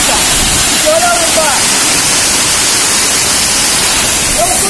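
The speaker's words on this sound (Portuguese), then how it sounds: "Olha a força dessa cachoeira." Cachoeira do Funil in Embu Guaçu, a powerful waterfall roaring as a loud, steady hiss of falling water up close, with a voice rising faintly above it at times.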